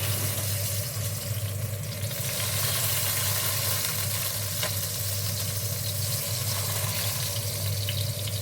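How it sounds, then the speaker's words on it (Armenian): Eggplant slices fry in a pan with a steady, loud, continuous sizzle and crackle, and faint stirring or handling sounds occur now and then, with no voice present. "Սմբուկների մի կողմը տապակվել է, հիմա կշրջեմ, որ մյուս կողմն էլ տապակվի։"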